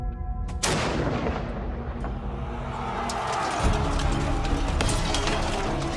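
An artillery gun fires on command with a sudden loud boom, then a long rolling rumble and echo as a second, heavier blast swells partway through.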